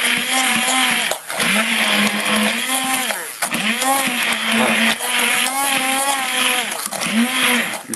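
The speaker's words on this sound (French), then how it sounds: "Les pommes sont cuites. Nous allons les passer donc au mixeur." A blender purées cooked apples for compote, its motor whining loud and steady with pitch dipping and rising as the fruit churns, while a voice speaks briefly over it.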